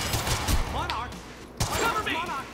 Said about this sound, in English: Monarch firing at us.